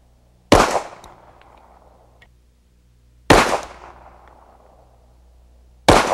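Three sharp, loud pistol shots fire 185 grain Winchester Silvertip cartridges in a low-light shooting session, spaced a few seconds apart, each with a booming decay tail and no talking.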